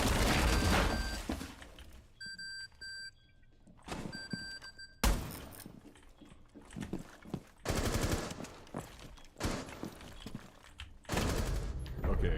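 Bursts of automatic gunfire from the video game Rainbow Six Siege, loud rattling volleys separated by brief pauses and a sharp thunk, with players' voices faintly in the mix.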